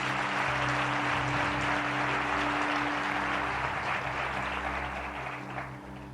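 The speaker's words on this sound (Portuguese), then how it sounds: "Dê para Jesus uma forte salva de palmas." Audience applause at a church conference in honour of Jesus, a sustained, dense wash of clapping holding steady for several seconds before easing slightly at the end, with a low hum underneath.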